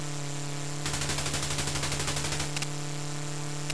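Aircraft machine guns in Chuck Yeager's Air Combat fire a rapid, evenly spaced burst of about a second and a half. A shorter burst follows, all over a steady engine drone.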